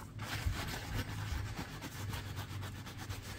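Paper towel rubbing and scratching across a CPU heat spreader to wipe off old thermal paste, a quiet, steady, close scraping texture with repeated short strokes and no talk.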